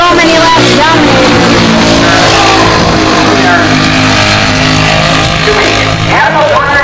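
Race cars in the 206 Cup race roar past on a lap, engines loud and continuous with shifting pitch as the pack drives by, while a commentator talks over the noise.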